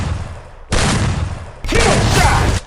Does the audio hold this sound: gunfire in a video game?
yes